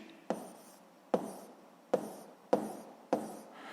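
Writing out the solution to a physics problem, likely chalk or marker on a board: five sharp, evenly spaced strokes, each a quick tap trailing into a short scratch, close and fairly quiet.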